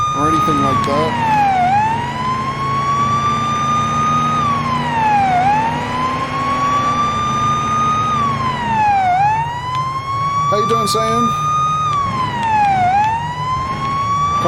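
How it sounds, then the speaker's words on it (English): A police car siren from the game Police Simulator wails loudly in long rising and falling sweeps that repeat throughout, with a brief voice speaking over it near the start. "whoop, whoop, that's the sound of the police"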